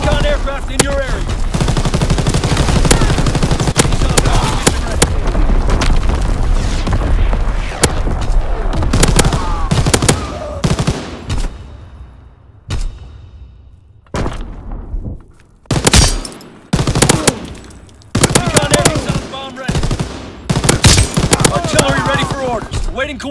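Call of Duty artillery and gunfire crash in dense bursts, with rapid machine-gun rattles and heavy booms, then thinning gaps and scattered shots, loud and close over game voice lines.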